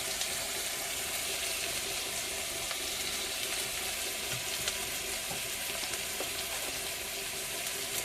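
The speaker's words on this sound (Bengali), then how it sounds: "দিয়ে মশলাটা কষিয়ে নেব।" Spice paste of ground ginger, salt and turmeric sizzling in a pan for a prawn curry, a steady, dense, hissing frying sound throughout with no talking.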